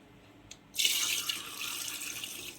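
Around 600 ml of water pours steadily into a bowl for sweet martabak dough, a close, bright splashing stream that starts after a brief clink and keeps running, with no talking.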